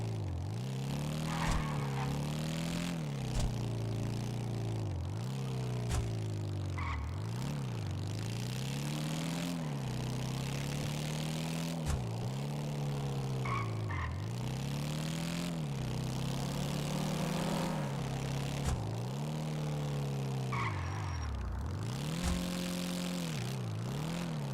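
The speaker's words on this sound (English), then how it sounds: "Motorcycle doesn't sound like it usually does." A motorcycle engine with open pipes, running steadily for a long stretch with a low, droning tone that rises and falls in repeated revving swells, moderately distant and alone without talk.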